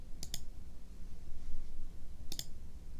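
Two sharp double clicks of a computer mouse, one near the start and one near the end, close and crisp over a quiet room hum, no talking.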